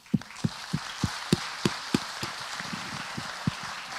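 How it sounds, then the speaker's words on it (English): A modest group claps at a political convention, a sparse, fairly quiet round of applause with a handful of distinct, evenly spaced hand claps standing out over a soft patter. "We need to give you a big round of applause."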